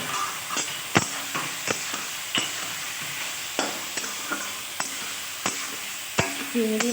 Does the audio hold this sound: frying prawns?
yes